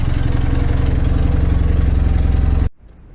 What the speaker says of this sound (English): it started easily, and it sounds much better. I think I can hear a blow on the exhaust